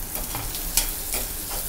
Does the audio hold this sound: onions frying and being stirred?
yes